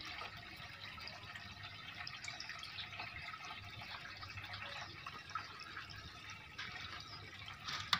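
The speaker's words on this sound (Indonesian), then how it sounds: "Ini juga gitu, air mengalir." Water runs and trickles through PVC pipes of a hydroponic strawberry setup, a soft continuous flow with small drips and splashes, fairly quiet and close.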